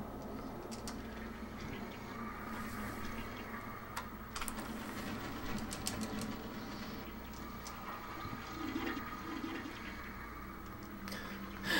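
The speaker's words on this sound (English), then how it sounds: "The pipes are making toilet flushing sound effects." Pipes gurgling with a toilet-flush sound in the Monster House video game, a quiet, continuous watery rush with scattered clicks and ticks over a steady background.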